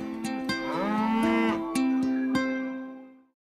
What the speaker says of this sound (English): we believe great milk comes from cows that graze free.